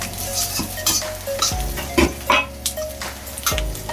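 Garlic and onion frying in oil for fried noodles, a loud close sizzle with repeated clanks and scrapes of a utensil stirring against the pan in irregular strokes, no voices heard.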